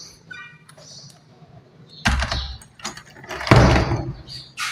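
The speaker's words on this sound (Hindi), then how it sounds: "ये शोर बहुत कर रहा है गेट।" A noisy metal gate is swung shut, giving two loud rattling clangs with scraping between them, close and harsh against a quieter background.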